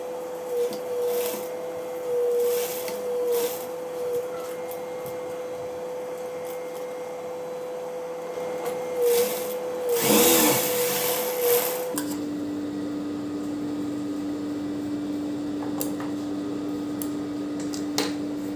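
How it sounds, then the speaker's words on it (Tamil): A sewing machine stitching a semi patiala pant, with a steady mechanical hum that shifts pitch midway and a burst of louder clatter near the middle, close and moderately loud, no speech. "இப்போ தைச்சி முடிச்சிடலாங்க."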